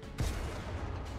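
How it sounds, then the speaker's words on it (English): A Minecraft tank cannon fires once with a sudden, loud, deep boom that rolls into a sustained rumble. "Fire cannon."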